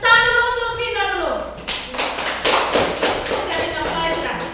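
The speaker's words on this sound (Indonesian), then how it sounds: "tepuk tangan dulu untuk kelompok 2 dulu" Classroom applause as students clap for a presenting group, a dense burst of many hands that starts after a teacher's voice and continues with uneven rhythmic waves to the end.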